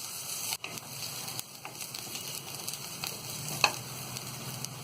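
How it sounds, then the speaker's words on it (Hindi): Onion sautéing lightly in a pan for veg momo filling, a quiet even sizzle with occasional stirring scrapes and a brief clink, no voices. "तो यहाँ प्याज हल्की फ्राई हो गई है।"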